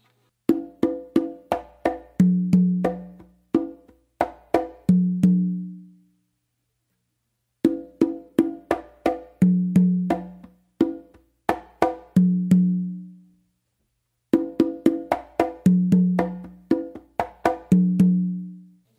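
Modern Patato-style tumbao played by hand on conga drums, including open tones on the low tumba; three repetitions of a crisp syncopated slap-and-open pattern, close and clear, separated by short pauses, with no talking.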